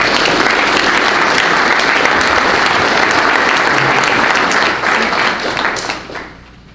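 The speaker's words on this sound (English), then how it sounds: "this would be a reason for our second applause" A church congregation breaks into loud, dense applause that holds steady for several seconds close by, then thins and fades out toward the end.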